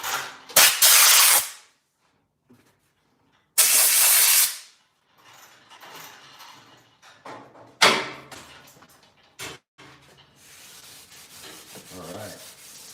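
Super fine sandpaper rubbed over guitar frets on a new neck in bursts of loud, close scratchy friction, with two strong strokes early and sparser, softer rubbing and handling noise afterward; no talking.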